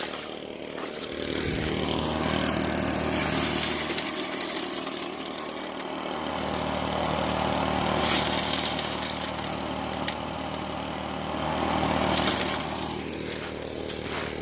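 Small Royal Explorer gold prospecting machine running its engine at a desert wash, a loud, steady motor drone that holds throughout with slight rises and falls and no talking.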